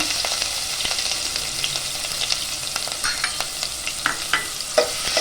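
Finely chopped onion and bay leaf frying in hot oil, a constant crackling sizzle punctuated by repeated spatula scrapes and taps that grow more frequent toward the end.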